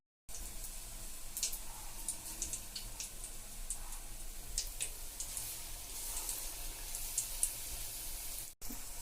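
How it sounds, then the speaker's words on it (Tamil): Plantain bajji pieces dipped in batter sizzle steadily in hot oil, a continuous close frying hiss with small crackling pops throughout and no talking. "வாழைக்காவை மாவில் டிப் பண்ணி எண்ணெயில் போட்டு பொரிச்சு எடுத்துக்கலாங்க"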